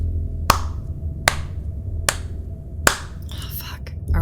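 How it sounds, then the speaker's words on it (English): Four sharp, evenly spaced claps ring out close by, made by the game master as clapping behind the players, over a steady low hum. Faint whispery voices follow at the end. "there's somebody clapping behind us"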